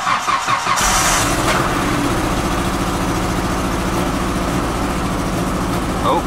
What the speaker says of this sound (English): So I'm gonna try to start it up now and see if it's okay.